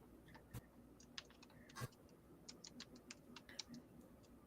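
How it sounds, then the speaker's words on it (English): Light typing on a computer keyboard, a sparse run of soft clicks and taps close by, quiet and without voices. "Is someone typing and checking?"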